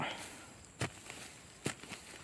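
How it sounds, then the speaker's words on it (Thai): Two brief, quiet scraping crunches of a tool digging into soil for crickets, spaced about a second apart, with faint rustling between them. "นี่เสียงขุดไปอย่างนี้เลยครับ"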